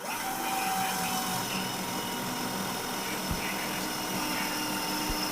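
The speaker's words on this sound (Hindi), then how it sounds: "अभी हम सेम मटेरियल के ऊपर सेम बिट के साथ होल डालेंगे आईजम की ड्रिल मशीन से" An IZOM cordless drill machine bores an 8 mm hole, giving a continuous, fairly loud motor whir that stays steady throughout with a rough, buzzing texture and a few faint knocks.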